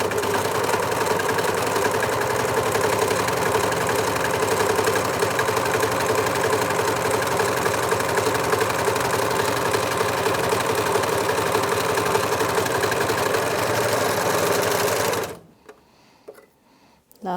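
A Janome 6234XL overlocker stitches through bulky fabric, a steady loud mechanical whirr running continuously for about fifteen seconds before stopping abruptly, followed by faint handling noises.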